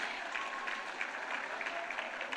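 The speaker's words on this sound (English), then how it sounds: "Let's give them another big round of applause," An audience at an evening business awards ceremony applauds, a dense steady patter of many hands clapping together, moderately loud and continuous throughout.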